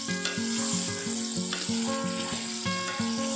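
Potatoes and brinjal fry in a pan with a loud, steady sizzle, crackling continuously with occasional stirring scrapes, close and with no voices.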